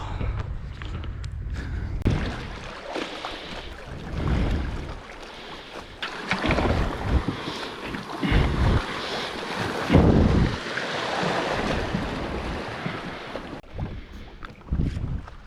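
Wind gusts buffet a microphone while paddleboarding on the River Wye, loud rumbling blasts that surge and fade unevenly along with light water splashing, and nobody speaks.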